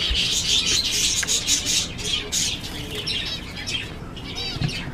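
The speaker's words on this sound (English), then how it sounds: "You're a pretty bird." A pet bird chirps and flutters its wings, giving bursts of close, bright tweets with soft flapping under them throughout.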